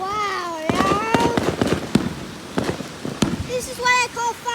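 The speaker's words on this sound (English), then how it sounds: "This is what I call fireworks." Fourth of July fireworks burst close by in a run of sharp bangs and crackles, with rising whistles at the start and end and excited voices reacting between blasts.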